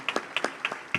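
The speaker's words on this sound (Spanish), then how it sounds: "Yo creo que hay que darle un aplauso por su trabajo acá en Colombia" Audience at a natural gas energy security panel applauding, a few crisp, close claps in quick succession over about a second.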